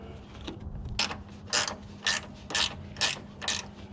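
A ratchet wrench clicking as it turns a 10mm bolt on a Toyota Tacoma bed stiffener, six evenly spaced bursts of close, sharp ratcheting over a faint low hum.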